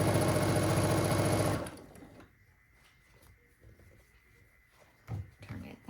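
Sewing machine stitching quilt pieces cut from a layer cake, a loud fast rhythmic run for about a second and a half, then stopping, followed by quiet fabric handling and small clicks.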